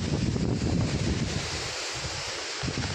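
A steady rush of falling water from a small waterfall roars continuously, broad and noisy, mixed with wind buffeting the microphone.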